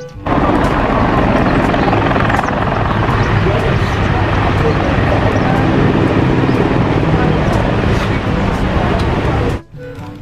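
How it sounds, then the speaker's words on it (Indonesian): A toy military helicopter gives off a continuous, loud, close whirring and rotor-like noise that runs steadily before stopping sharply at the end. "Yang ini ada helikopter militer."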